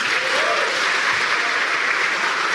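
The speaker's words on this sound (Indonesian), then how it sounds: "coba tepuk tangan." Audience applause at a stand-up comedy show, a dense, steady wash of many hands clapping that holds even and loud from start to finish, with no voices standing out.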